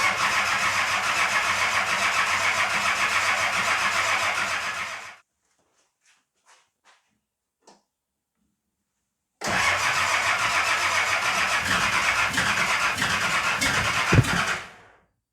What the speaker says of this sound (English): turn it over until we've got fuel coming out the injectors